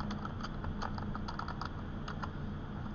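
Typing on a computer keyboard, a steady run of quick light key clicks with uneven rhythm over a constant background hum, close and with no talking.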